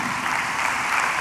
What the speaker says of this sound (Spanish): Le das aplauso al Señor.